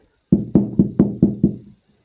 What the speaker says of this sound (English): Gonna knock on my board.